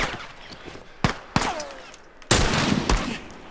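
Sporadic gunshots ring out in The Last of Us video game: a few sharp single shots, then a louder sustained burst near the end, with quieter background ambience between.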